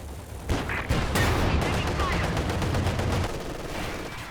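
Rapid gunfire and explosions in a Company of Heroes 2 two-versus-two match, with dense overlapping shots and blasts throughout and a commentator talking over them.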